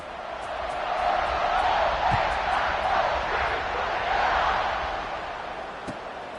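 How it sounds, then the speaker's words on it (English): A football stadium crowd in NCAA 26 buzzes and cheers as a broad, continuous roar that swells in the middle and eases toward the end, with faint thumps beneath. "this crowd is buzzing after that last score"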